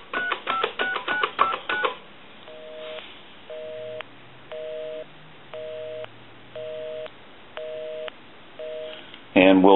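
A Snoopy Woodstock telephone dials a number as a quick string of touch-tone beeps, followed by a run of evenly spaced, identical tone pulses and a brief louder sound at the end.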